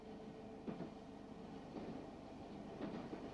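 Automatic London Underground passenger train running, a steady low rumble of wheels on track with periodic soft clatters from rail joints, heard from inside and fairly quiet.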